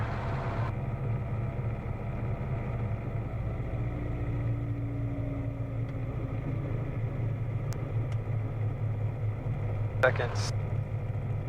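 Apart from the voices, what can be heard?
helicopter engine starting up during night training flight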